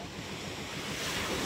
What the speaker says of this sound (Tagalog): Medyo may alon na ang ating dagat ngayon. Medyo malakas na.